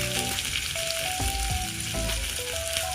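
Green chillies fry in oil in a pan for a spicy yogurt chilli dish, giving a steady, loud sizzle that fills the whole clip, with faint stirring clinks and no voices.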